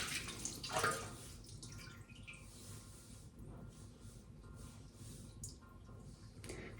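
Water runs steadily from a tap, a soft continuous splashing with occasional drips and clinks, close and fairly quiet.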